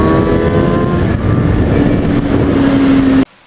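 A motorcycle fitted with loud aftermarket exhaust pipes roars steadily close by, a deep continuous rumble with slight shifts in pitch that cuts off abruptly at the end.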